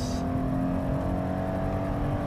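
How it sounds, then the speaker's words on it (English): A 2014 Scion FR-S sports car engine holds a steady high-rev drone, loud and close, with a brief whine at the start and no talking. "So let's go ahead and rev it up here."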